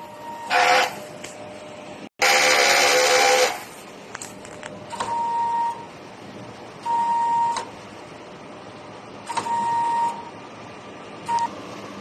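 A DTF printer running its print head cleaning cycle, with repeated short mechanical whirring bursts and several clear electronic tones at intervals, close and loud, with quiet gaps between.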